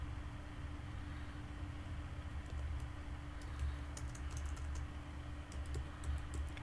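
Soft clicking keystrokes come in short scattered bursts from a computer keyboard against a low steady background hum, faint and close, with no talk.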